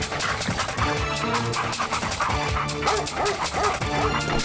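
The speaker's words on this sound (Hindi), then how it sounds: "तब उसके पीछे एक कुत्ता पड़ गया" A cartoon dog barks and yips rapidly and continuously as it chases a man through a village, loud and busy over a dense comedy sound effects backdrop.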